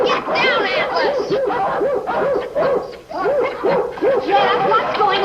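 Many dogs barking at once in a noisy, overlapping chorus, close and loud, with people shouting over the racket.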